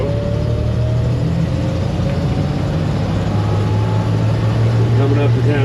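A 1961 GMC COE cab-over truck on the move: a loud, steady low engine drone that fills the cab without break, with someone talking over it.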